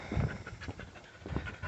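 A farm dog pants close by in quick, breathy bursts over a couple of seconds, with no talking.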